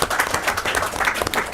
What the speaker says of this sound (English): We should clap for her.